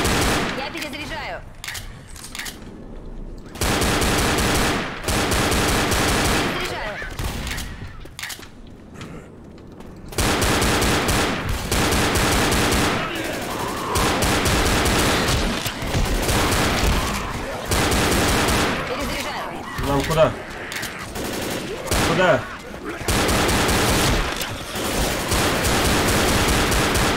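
Gunfire in the zombie shooter Left 4 Dead 2: scattered shots at first, then long sustained automatic bursts and overlapping rapid fire, loud and close, filling most of the stretch.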